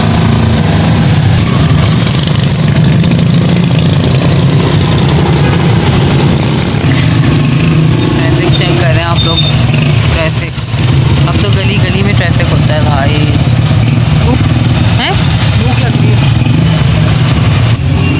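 An auto rickshaw engine drones loudly and steadily on a city road during a ride, a continuous low motor rumble with passing traffic tones, while people talk over it throughout.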